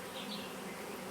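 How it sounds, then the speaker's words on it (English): Honeybees buzz around a hive in Hawaii, a dense, continuous drone close to the listener with no voices. "As you can see, the bees have been much calmer today."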